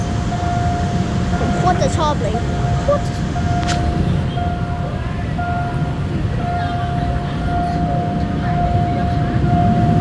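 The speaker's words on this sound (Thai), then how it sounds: "น่าจะเป็นขบวนสินค้านะคะทุกคน" A freight train bound for Makkasan rumbles steadily past at close range, a continuous heavy roar with a sustained tonal hum, while someone talks over it.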